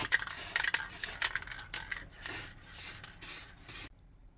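Varnish sprayed from an aerosol can onto small plywood cut-out pieces, several short hissing bursts with brief gaps between them, close but fairly quiet, with no voices.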